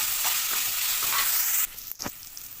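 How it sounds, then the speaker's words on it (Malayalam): Onions, peanuts, ginger and garlic are stirred in a hot pan as they brown, giving a steady sizzling hiss that drops off near the end, leaving a few spatula scrapes and knocks. "ഇനി ഇത് നന്നായിട്ട് നമുക്ക് ഇളക്കിയെടുക്കണം."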